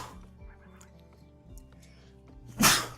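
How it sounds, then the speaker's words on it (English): A sudden, loud double sneeze bursts out near the end, following a few seconds of quiet background noise. "Oh, a double sneeze."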